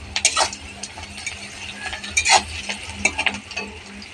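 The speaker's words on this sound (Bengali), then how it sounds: "পেঁয়াজ ভাজা হয়ে গেলে ওতে আলুগুলো দিয়ে আরেকটু ভাজতে থাকবো।" Onions and then potatoes frying in a pan for a prawn malai curry: a low sizzle under repeated scraping and stirring strokes of a utensil, with a steady low hum behind, close and moderately loud, no talking.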